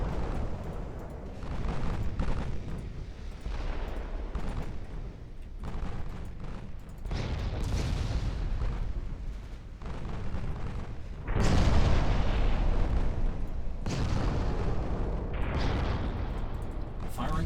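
Naval guns firing in the warship game Ultimate Admiral Dreadnoughts, with cruisers trading 8-inch shells: repeated deep booms and rumbling blasts over a continuous low battle roar, some louder salvos standing out, with a voice talking over it.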